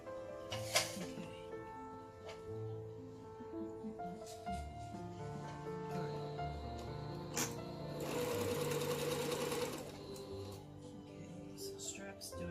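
A sewing machine runs steadily while straps for a circle dress are stitched at a 1/4 inch seam. The whirring comes close and moderately loud, with a denser burst partway through, and a voice talks faintly at times.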